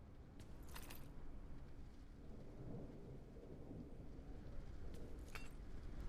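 Steady rain hisses in the video game Dark Hours, faint and continuous, with a couple of brief bright crackles standing out above it.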